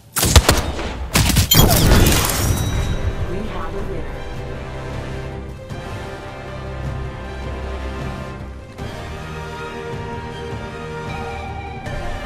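Gunfire in the video game Apex Legends, a loud burst of rapid shots at the start, then a sustained rumbling battle ambience with distant impacts and faint voice chatter beneath.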